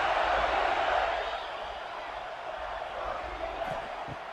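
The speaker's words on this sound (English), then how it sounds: "Third down, and the crowd really getting into it." A football stadium crowd at a Michigan Wolverines vs Oklahoma Sooners college game roars in a broad, distant wash of cheering on a third down, staying steady throughout with only faint voices on top.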